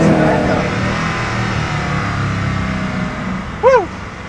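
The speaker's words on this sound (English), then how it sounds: "So that's the Agera R on a track." Koenigsegg Agera R engine droning loudly on a track, a steady heavy rumble throughout with a brief sharp rise near the end, and a voice speaking over it.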